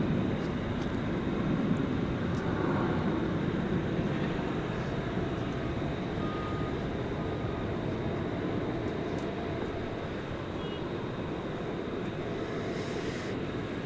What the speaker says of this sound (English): We've got this American Airlines Dreamliner taxiing into the terminal area, not the terminal area, into the hangar area here on the west side.